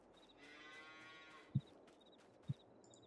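Cattle lowing in a farm setting, one long drawn-out moo with rich harmonics fading out, followed by soft ambient chirps and two dull thumps, quiet and somewhat distant.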